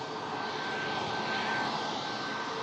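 An airliner arriving from Alicante, heard as a steady, moderately faint engine roar with a thin whine running through it.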